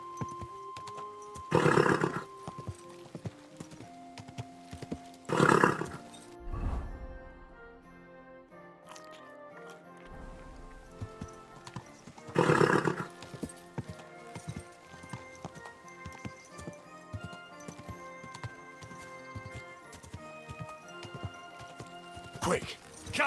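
In the Kingdom Come 2 video game, a horse whinnies in a few loud bursts while hooves clip-clop steadily over a low ambient music bed.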